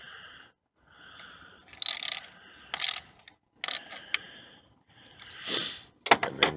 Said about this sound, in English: go ahead and put your socket wrench back on and finish tightening it up